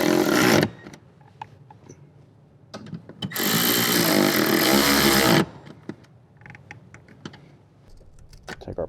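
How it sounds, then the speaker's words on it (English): Socket wrench tightening bolts while reinstalling trim on a Toyota 4Runner, heard as a few close ratcheting clicks and taps with a longer burst of rough mechanical noise in the middle. "we can go ahead and tighten them down with our socket"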